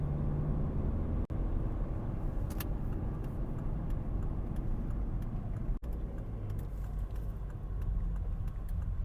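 A Volvo V50 with a 1.6 diesel engine drives steadily after a gear change, with a continuous low engine and road rumble, heard from inside the car. A couple of brief clicks stand out, and no one speaks.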